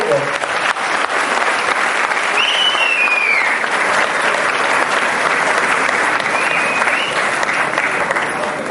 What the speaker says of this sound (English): You can clap if you want me to.